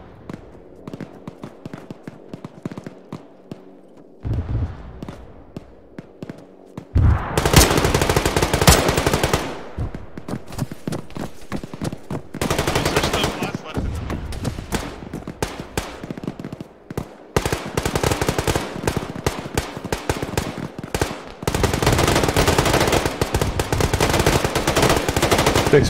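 Arma 3 combat gunfire, with long loud stretches of rapid automatic fire and cracking shots broken by brief pauses, close and intense throughout.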